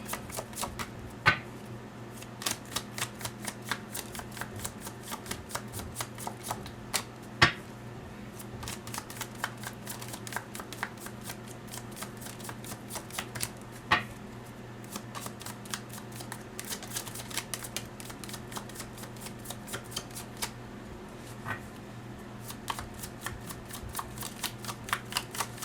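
Tarot cards being shuffled over and over, a close, steady run of crisp riffling flicks and soft slaps that continues with no talking, the usual shuffle sound of a card deck.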